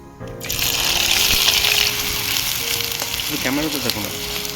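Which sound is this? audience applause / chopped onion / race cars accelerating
chopped onion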